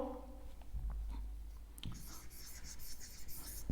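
Numbers written out by hand for a class 6 maths lesson, a few faint scratchy pen or chalk strokes and taps in a quiet room, brief and soft with a low hum beneath.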